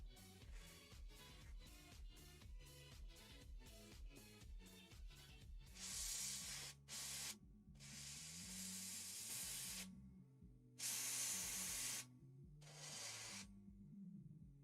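Airbrush spraying paint on a scale model: several bursts of close, bright hissing spray start and stop over busy background music, some bursts short and others held for a few seconds.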